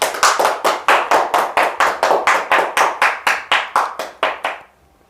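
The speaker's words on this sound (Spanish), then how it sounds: "Vamos a dar un aplauso a Dios." A congregation in church claps in a steady, rhythmic unison beat, about a dozen sharp, loud claps in under five seconds before stopping abruptly into silence.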